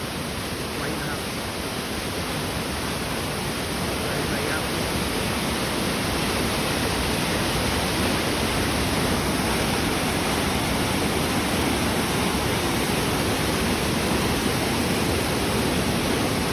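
Krathing waterfall in Khao Khitchakut National Park pours in a dense, unbroken roar of rushing water, loud and close and steady throughout.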